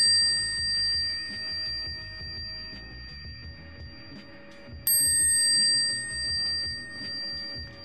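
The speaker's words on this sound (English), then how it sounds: "The best thing about a brass bell is how loud and clear the sound is." A loud, clear brass bicycle bell rings, an Alexander Graham bell model meant for commuting on bike paths. Several bright rings sound alone, one struck sharply midway, and each leaves a long shimmering ring-out over a quiet background.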